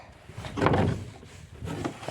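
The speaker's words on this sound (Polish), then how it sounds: "Tu mi drzwi opadają. O, muszę je jakoś nareperować. Ciężko się zamyka." A sagging wooden chicken coop door is pushed shut with effort, giving a scraping, knocking thud followed by a second smaller knock, close and fairly loud with no talk.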